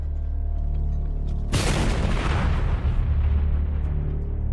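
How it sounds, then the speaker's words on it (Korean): A large piece of bamboo stuffed with gunpowder goes off as a landmine in one sudden, heavy boom that rolls away over several seconds. A low steady rumble runs underneath throughout. "this would explode a large piece of bamboo stuffed full of gunpowder right underneath the enemy soldiers' feet."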